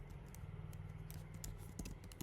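Keys clatter quietly on a computer keyboard as Python code is typed, a quick run of soft, irregular clicks over a low hum.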